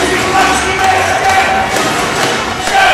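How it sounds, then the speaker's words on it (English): A large home crowd of over 4,000 fans roars in Prague's O2 Arena during the 2022 Futnet World Championships triples final, a dense, steady wall of cheering with faint thuds underneath. "And just listen to the crowd here."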